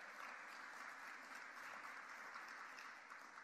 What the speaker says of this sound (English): Give yourselves one more round of applause before we wrap up today.